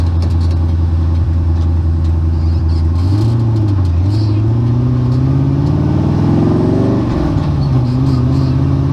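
Dune buggy engine cruising on a city street, a steady loud drone rising and falling as the throttle is worked, pitch climbing through several revs before easing back, no talking.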